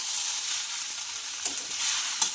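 Sabudana khichdi with peanuts and potatoes fries in a pan, giving a continuous close sizzling hiss broken by a couple of short stirring scrapes.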